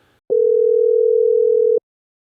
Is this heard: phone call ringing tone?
yes